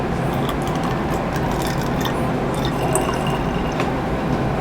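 Homemade hair mist is poured into a small spray bottle, giving a continuous liquid trickle and gurgle with small drips and splashes, close and steady throughout.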